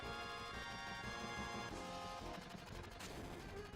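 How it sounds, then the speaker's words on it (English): Gunfire in a Final Fantasy VII battle, a dense, continuous clatter of rapid shots with booming impacts and a metallic crash near the end, loud and busy throughout with no voices. "Wait, you hear something above us? Gunfire."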